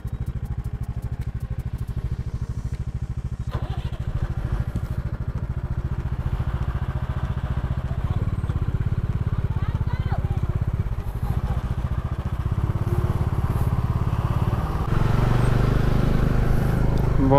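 A motorcycle climbs a very steep mountain road in first gear between Mangan and Chungthang, its engine a continuous low, close drone with a rattling, labouring note that grows slightly louder near the end.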